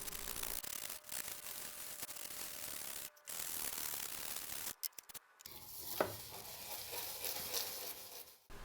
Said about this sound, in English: I take a wire brush and scrub all of the teeth gently to remove all of the gunk and pitch that's built up on them.